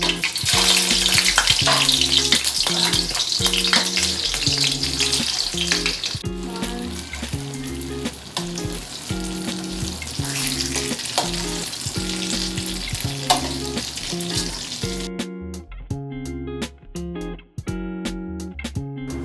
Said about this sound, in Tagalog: Gisayin muna natin ang tokwa.